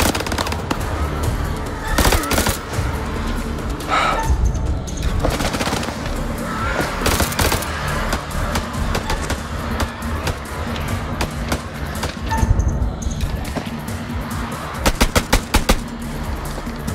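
Rapid bursts of video game gunfire, automatic rattles and sharp single shots, loud and close, repeating in clusters throughout.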